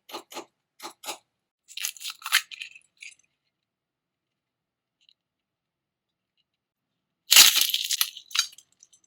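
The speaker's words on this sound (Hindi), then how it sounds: "अभी आपने सुनी आवाज मैं खा रही हूँ तो कितनी कुरकुरी आवाज आ" Crispy gujiya made from a semolina and wheat flour dough being bitten and chewed up close, giving a series of short dry crunches early on, then a louder burst of crackling bites after a quiet pause.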